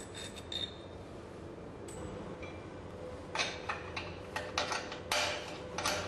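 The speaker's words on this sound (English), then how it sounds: "Here, 8 bolts are unscrewed, releasing a split spacer which aids dismantling and alignment." Bolts being loosened on the rotor assembly of an NOV Mono cake pump, with scattered metallic ticks, clinks and ratcheting clicks against a low steady hum, close by and without talk.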